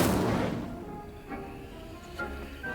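Incendio fire spell cast in Hogwarts Legacy, a loud booming burst of flame that fades into a roaring decay, with smaller crackling pops following, no voices.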